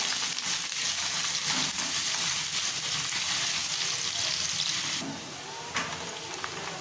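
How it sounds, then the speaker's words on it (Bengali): Chopped onions, two large ones, fry steadily in hot oil with a dense, close sizzle, a few soft stirring scrapes, and the hiss easing slightly near the end. "পেঁয়াজ কুচিগুলো ভালো করে ভাজবো।"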